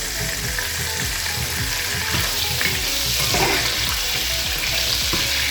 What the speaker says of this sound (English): I had to cover the pot because it started popping.